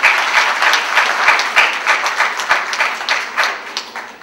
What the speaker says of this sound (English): I think a round of applause for her for that.